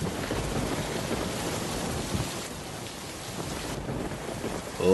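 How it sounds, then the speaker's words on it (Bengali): Heavy cartoon rain pours down in a steady, dense hiss that holds evenly for a few seconds, with a faint low rumble underneath and no voices. "আজ আবার খুব বৃষ্টি হচ্ছে দেখছি"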